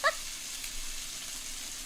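Food frying with soy sauce in a pan, a steady hissing sizzle that holds evenly throughout, with a brief faint chirp at the start.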